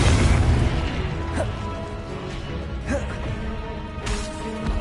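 Booming spell blasts and bursts in the action game Hogwarts Legacy, a dense run of deep impacts and pops layered over rumbling game sound, with fainter hits recurring every second or so.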